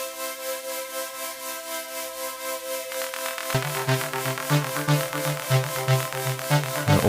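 Noise-oscillator synth drone run through a high pass filter, tremolo, delay and reverb, giving a hissy sustained wash with a pulsing wobble; a rhythmic low pulse joins partway through and continues to the end.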